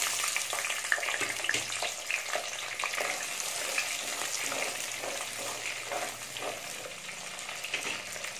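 Whole small onions sautéing in a pan for a river fish curry, a continuous soft sizzle and frying hiss with faint stirring, quiet and close, no talking.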